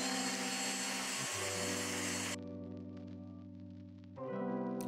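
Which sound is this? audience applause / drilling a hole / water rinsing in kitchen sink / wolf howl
drilling a hole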